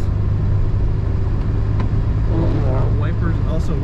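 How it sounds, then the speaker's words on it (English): A 1985 Oldsmobile Cutlass Supreme Brougham's blower motor runs as a steady low hum and whoosh inside the cabin, constant and fairly loud, with someone talking over it near the end. "Blower motor works."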